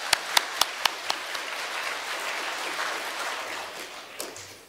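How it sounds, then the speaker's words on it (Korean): Congregation in a church sanctuary claps briefly, starting with several sharp distinct claps before settling into a softer, moderate round of applause that fades out. "자, 우리 한번 자축 박수합시다."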